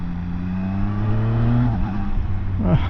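A Zontes 703RR motorcycle in eco mode accelerates in second gear from about 23 mph into a 40 limit, its engine note rising steadily and close, then dropping as the throttle eases near the end.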